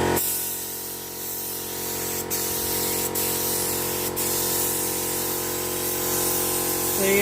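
A continuous hiss of an aerosol can spraying mint paint, held close, steady for several seconds with no talking.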